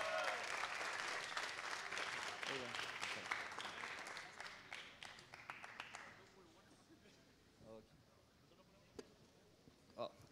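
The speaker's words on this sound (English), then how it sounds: "A big applause for Adedo." Audience applause greets a startup's presentation at a tech camp event, a dense roomful of clapping that runs strong for about six seconds, then fades to scattered claps and a few stray noises.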